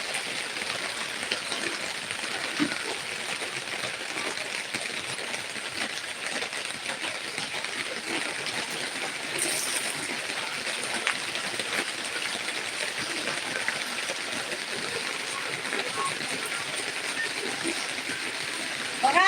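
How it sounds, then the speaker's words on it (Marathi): Steady rain pours outside in a continuous, even hiss that holds for the whole stretch without pause. "पाऊस चालू आहे बाहेर"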